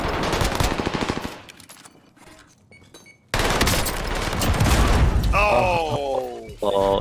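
A PPSh submachine gun fires in Call of Duty: Warzone during a close building fight, with rapid rattling bursts, a pause, then more heavy gunfire and booms as excited voices talk over the action.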